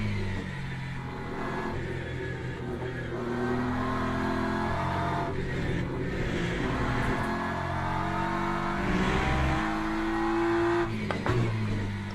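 Simulated race car engine from the Le Mans Ultimate game, run on cold tyres at Spa, drones steadily throughout with shifting revs and gear changes, loud and continuous with no talk.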